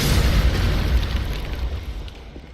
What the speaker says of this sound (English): Boulder Heave does a much better job against the skeletons than the magic missile does